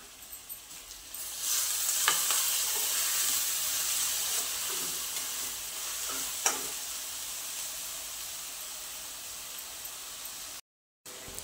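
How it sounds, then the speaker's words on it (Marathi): Ground masala paste sautés with onions for matar kurma, a steady crackling sizzle that swells after the first second, broken by a few sharp spatula clicks and a brief silent gap near the end. "आता हे परतून घेऊ"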